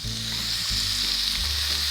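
Steady, close sizzling of chicken frying in a hot pan, a constant crackling hiss with a low hum underneath.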